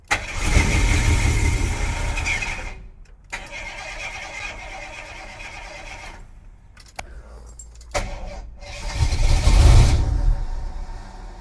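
A 1976 Jeep truck, sitting for 29 years, with fuel dumped in the carburetor: loud engine cranking that stops and restarts in several bursts, separated by short silences, before a final surge.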